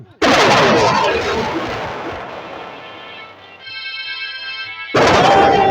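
Bursts of gunfire crackle loudly with dense, sharp reports, pausing briefly before another heavy volley erupts near the end.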